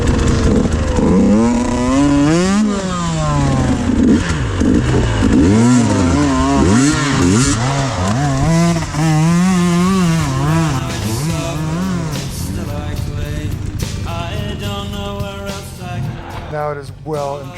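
A dirt bike engine revs loud and hard in a race as the clutch slips, its pitch surging and wavering continuously close by, with no clear talk over it.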